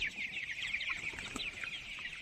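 A flock of tiger chickens let out in the morning, clucking and chattering continuously at moderate distance, a busy overlapping texture with no voices.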